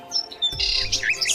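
A bird in a cartoon moral story chirps and tweets in quick, bright, high calls that rise and fall, with soft background music beneath.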